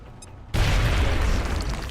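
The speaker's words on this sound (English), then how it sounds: "Frag out." A frag grenade detonates in the strategy game XCOM Long War, a sudden loud boom after a short quiet lead-in, followed by a sustained rumbling roar of debris and blast noise that fills the rest of the moment.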